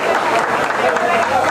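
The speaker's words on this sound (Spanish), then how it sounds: "Aplauso para él, por favor." Loud, sustained applause from a crowd honoring a former community center president, a dense continuous roar of clapping hands at close range without pauses.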